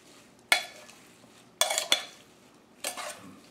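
Salad of mixed greens and cherry tomatoes is stirred and tossed in a bowl with dressing, three bursts of clattering, scraping strokes separated by quiet pauses.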